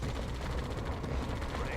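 Grand Cannon artillery fires in a Yuri's Revenge 2v2 tournament match, a dense, steady roar of booming shots and battle gunfire packed together without a break, with a faint voice underneath.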